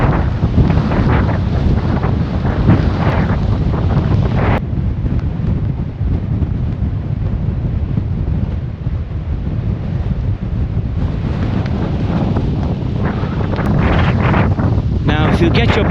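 Strong gusts buffet the microphone on the Ardmore coast cliff walk above a rough, boiling sea, a loud, continuous roar of wind and surf throughout with no break.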